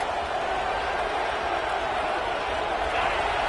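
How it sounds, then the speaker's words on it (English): Fans at an Arizona State vs. Oklahoma college football game produce a dense, continuous roar that swells slightly near the end, filling the stadium while the defense is on the field. "The roar of the crowd trying to fuel this defense to keep them pinned in their own end."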